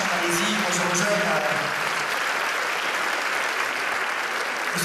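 Applause at the Miss Aquitaine sash ceremony, steady dense crowd clapping throughout, with faint voices underneath early on.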